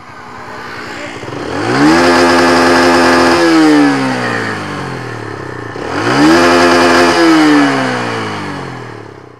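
A Yamaha YBR 125 motorcycle engine, rejetted with an aftermarket air filter, revs hard through the gears toward 11,000 RPM during a top speed test, climbing twice in rising sweeps with a gear change between, loud and close.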